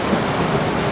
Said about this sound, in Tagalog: At gawa po ng lakas ng ulan